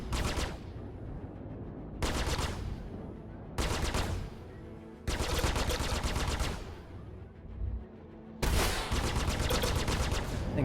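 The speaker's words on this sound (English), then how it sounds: "let's see if we can get a hit here with the rocket pods." Rocket pods fire from a spacecraft in the space game Star Citizen during a fight against the Vanduul swarm, in five loud separate salvos of roaring, crackling bursts, each lasting about a second or more.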